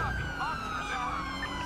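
A police car siren in GTA 5 wails steadily in a continuous rising and falling tone, with engine rumble and background noise underneath.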